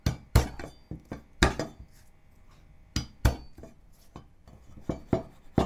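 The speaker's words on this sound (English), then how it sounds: "So chop the garlic into small pieces." Knife chopping garlic finely on a cutting board for a Chinese broccoli stir-fry, giving sharp, irregular thuds in quick bursts with short pauses between, close and fairly loud, no talking.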